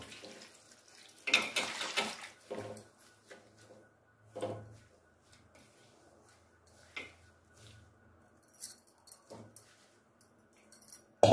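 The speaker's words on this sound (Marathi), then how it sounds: "आता हिला ना आपण पाण्याने आपण धुणार आहोत" Drumstick leaves being washed in water give intermittent splashes and sloshing, with short bursts of handling and rinsing separated by quiet pauses, close and fairly soft.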